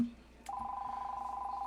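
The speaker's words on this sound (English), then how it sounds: "I apologize for the phone ringing." A telephone rings with a steady electronic tone that starts partway in and pulses rapidly and evenly until the end, after a short click.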